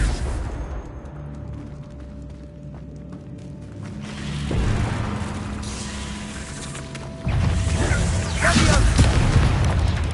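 The Confringo blasting spell in Hogwarts Legacy goes off as deep booming blasts, one after another, over a sustained tonal game soundscape that grows louder with each explosion.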